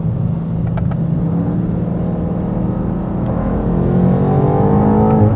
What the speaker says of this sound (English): we just had a drag with a GSXR 1100